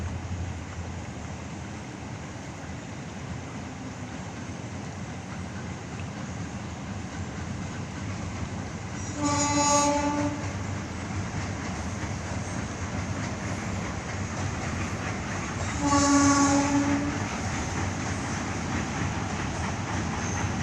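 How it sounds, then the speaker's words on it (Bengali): Low rumbling rail noise of an approaching train under a steady wash of the flowing Teesta River, with two loud horn blasts ringing out several seconds apart. "আর ওইদিকে মনে হচ্ছে ট্রেন আসছে"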